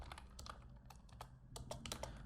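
Typing on a computer keyboard: quick, close, faint clicks tapped in an irregular run of keystrokes over a low background hum.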